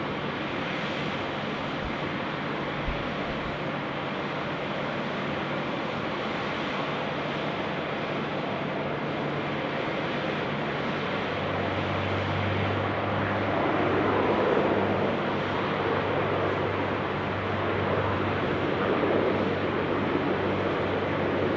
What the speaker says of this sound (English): Qantas 81 getting the pushback now, the A330